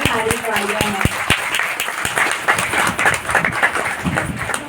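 An audience of women at a gathering breaks into sustained clapping, dense and continuous with a few sharp individual claps at the start, while a voice speaks over it.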